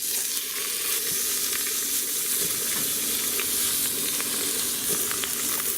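A herbed pork loin roast searing in a hot pan, a loud continuous close sizzle and spitting hiss with faint crackles throughout and no voices.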